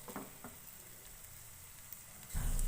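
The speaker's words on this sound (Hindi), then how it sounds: "चिकन को मीडियम फ्लेम पे कुक करेंगे" Chicken cooking in a pan over medium flame as its liquid dries off: a soft, close sizzle with light crackles, then a sudden louder burst of frying near the end, no speech.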